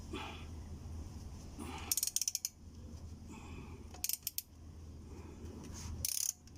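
A ratcheting wrench with an extension turns counterclockwise to loosen the oil filter on a 2012 Toyota Vios. Three short bursts of quick clicking rattles sound over a steady low background hum.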